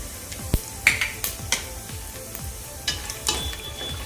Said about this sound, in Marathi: इथे आपलं तेल गरम झालेलं आहे यामध्ये मी आता एक टीस्पून जिरं घालते जिरं आपलं फुललं आहे यामध्ये मी आता खडा मसाला घालून घेते